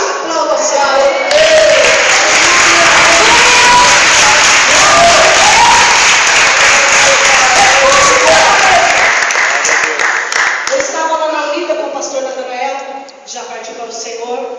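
A church congregation applauds loudly and steadily for several seconds, dense clapping that tapers off as voices and music come through near the end.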